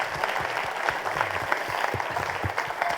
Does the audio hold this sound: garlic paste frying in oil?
no